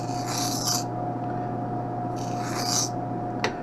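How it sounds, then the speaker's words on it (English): Hand bevelling the edge of an Oakley 3217 eyeglass lens, a Transitions XTRAactive lens with blue flash mirror, gives two close, steady rasping strokes with a brief sharp scrape at the end, alone over a faint hum. "Do a little bit of a safety bevel"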